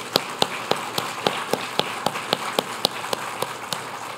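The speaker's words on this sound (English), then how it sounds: "Let's give him another round of applause." Sparse, evenly spaced claps from a lecture audience, a dozen or so sharp hand claps in a steady rhythm over a soft room hum, fairly quiet and without voices.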